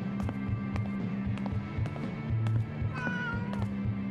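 Pet cat meowing in the video game Life is Strange: True Colors, a couple of short meows near the end over a busy background of soft tapping steps and ambient game sound, with no talk.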